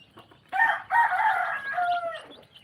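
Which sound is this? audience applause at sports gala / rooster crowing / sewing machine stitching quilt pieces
rooster crowing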